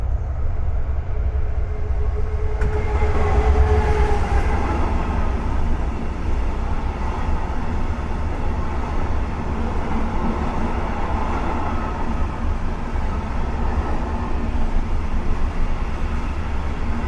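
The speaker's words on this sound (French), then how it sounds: "nous laissons passer, en pleine accélération, cette classe 66 de DB Cargo France en direction de la carrière de Marquise-Rinxan sur la ligne Boulogne-Calais" A DB Cargo France Class 66 diesel freight locomotive accelerates past on the Boulogne–Calais line, heading for the Marquise-Rinxent quarry, with a loud, steady engine roar and rumble that holds throughout.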